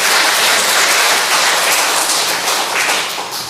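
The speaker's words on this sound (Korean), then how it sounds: "박수 한번 해주세요" Church congregation clapping during a Sunday worship service, a steady dense wash of many hands that stays loud and gradually tapers off toward the end.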